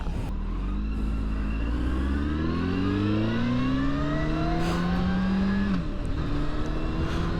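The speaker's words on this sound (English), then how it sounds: "We're in second gear and just rowing through the gears." A powerful motorcycle pulls hard from second gear upward, engine pitch climbing in long steady sweeps with a brief dip at each shift, loud and close from the rider's position on an open road.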